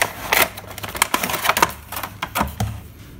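Plastic wrap on a Boya BY-MM1 microphone package is torn open and handled at close range, producing a series of sharp crackles and crinkly bursts over about three seconds.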